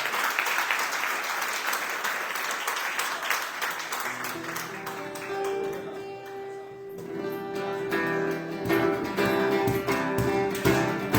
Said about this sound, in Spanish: damos unos aplausos al Señor por sus vidas.